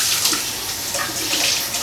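Tap water runs in a steady, close, continuous stream at a kitchen sink while egg shells are rinsed, with no talking over it.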